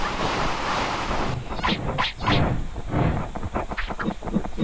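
Ocean waves wash and surge in the online game Lost Saga. A broad, steady roar gives way to repeated rushing swells, moderately loud, with no voices.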